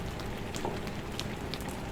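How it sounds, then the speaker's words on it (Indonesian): Steady rain falling at night during an outdoor civil-service training event, a constant dense patter with scattered louder drops hitting a surface, with no voices. "Hujan yang turun pada malam hari ini"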